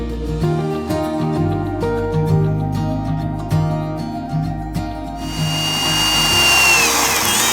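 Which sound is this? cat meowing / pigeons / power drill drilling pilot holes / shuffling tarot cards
power drill drilling pilot holes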